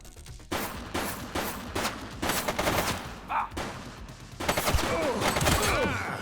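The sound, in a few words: gunfire from a shooter in the video game The Precinct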